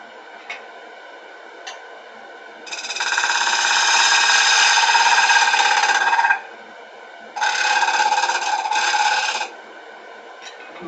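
Negative rake scraper working a woodturned lidded bowl on a lathe, a steady rasping scrape held for about four seconds, then two shorter passes after a pause, close and fairly loud with faint ticks between.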